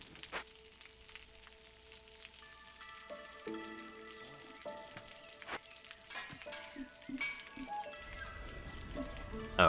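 A rain mill runs in the video game Against the Storm, giving a soft, steady crackle like rain or sizzling beneath faint tonal game music.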